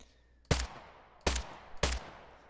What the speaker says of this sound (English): Let's listen to a sci-fi gun sound preset just to give you an idea.